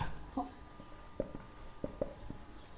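A pen scratching on paper during a trigonometry lesson, a few short soft strokes and taps, close and quiet, with a low room hum and no speech over it.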